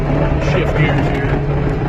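A sluggish skid steer loader engine runs with a steady, close low drone and rumble, pushing through an ice-crusted pile, continuous with no break.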